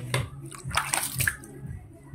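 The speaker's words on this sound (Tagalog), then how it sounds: "Okay, busan natin ng tubig." Water is poured over a rusty item during cleaning, giving splashes and sloshing bursts with dripping in between, close and fairly loud, and a voice is briefly audible underneath.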